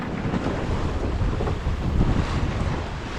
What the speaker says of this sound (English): these big waves are coming from the east, and the wind is actually from the northeast